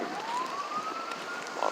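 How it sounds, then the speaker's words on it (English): A distant emergency vehicle siren wails during a Michigan snowstorm with several accidents nearby, one slowly rising tone heard faintly through wind noise. "don't know how well you can hear me because of all the sirens and stuff and everything else."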